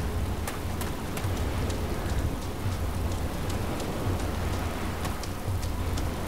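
Steady rain pours in the video game Arma II DayZ, a dense, continuous patter with no voices, lasting throughout.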